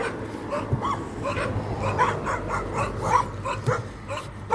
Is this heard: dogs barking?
yes